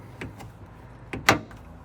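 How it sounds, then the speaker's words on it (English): A pop-out rear side window on a 2023 Toyota Aygo X Undercover edition is pulled shut: a couple of soft plastic clicks, then one sharper latching clunk near the end, close by and fairly quiet in a still cabin. "we do have these little pop-out windows, which take you back like so. Pull them in."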